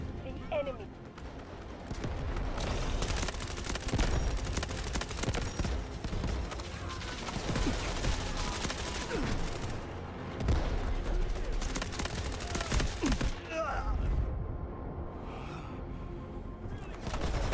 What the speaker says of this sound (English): jumping and killing guys whilst hip firing